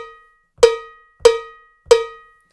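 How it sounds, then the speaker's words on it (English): Cowbell sample on a Roland SPD::One Kick pad struck three times at an even pace, each hit a sharp metallic clank with a ringing tone that decays quickly, close and alone. "We've got a cowbell."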